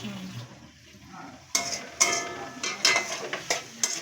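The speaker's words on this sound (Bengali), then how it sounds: "টমেটো দেওয়া হয়ে গেল এবার একটু নাড়াচাড়া করতে হবে" A spatula knocks and scrapes through tomatoes frying in a pan, a quiet sizzle at first, then a string of sharp metallic clinks and stirring strokes close up.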